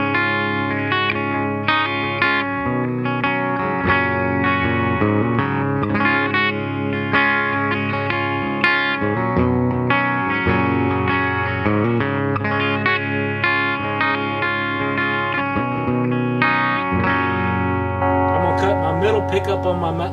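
Electric guitar with a clean tone on the green channel of a Randall RG80 amp, played on a Les Paul's middle pickup setting. Sustained chords and ringing single notes sound steadily and alone, with no talking.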